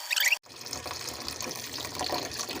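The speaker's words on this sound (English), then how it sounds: "I'm gonna just give these a little rinse." Tap water runs into a sink as fiddlehead ferns are rinsed. A short bright splash is followed by a sudden drop, then a steady close rush of water with some gentle spatter.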